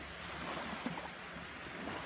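Gentle seawater washing against a beach at dawn in Crotone, a soft continuous wash of small waves with light wind noise, steady and close, no voices.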